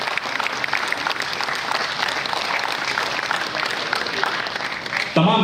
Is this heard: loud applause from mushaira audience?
yes